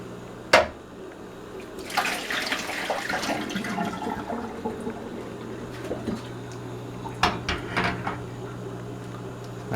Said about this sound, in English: What I'm going to do is I'm going to remove some water just to speed this video up for you guys.